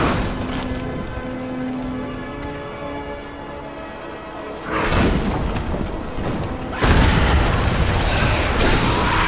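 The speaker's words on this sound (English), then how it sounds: "Fire's lit and the catapult's firing on the battlefield" Catapult launching on a battlefield in Diablo III, heavy booming impacts and crashing bursts over a rumbling ambient battle backdrop, loud and close, with a second, bigger blast near the end.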